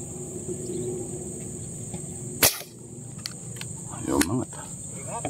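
A single sharp, muffled pop from a weak gunshot during fish hunting cuts through outdoor ambience with chirping insects, followed by brief voices nearby.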